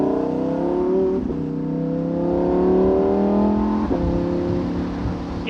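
A 2019 Lamborghini Huracan Evo Spyder convertible revs its engine in a steady, loud roar, with rising and falling pitch and two sharp gear-change blips, close by and continuous with no talk.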